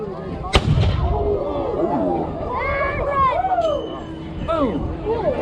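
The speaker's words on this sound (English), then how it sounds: "All right, crew, fire when ready." A Second World War Italian tank fires its gun once, a sharp loud blast near the start, followed by crowd noise, whistles and people talking over the rumble.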